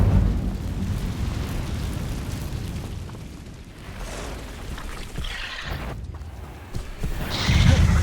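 A fiery Incendio spell in Hogwarts Legacy roars as a loud, sustained burst of flame and explosive whooshing, with rumbling blasts rising again near the end.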